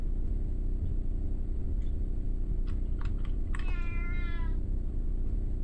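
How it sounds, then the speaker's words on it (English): A cat meows once, a short, faint, rising call heard from a distance over a steady low hum, preceded by a few soft clicks and taps during a game of SHOGO: Mobile Armor Division. "I hear you, cat."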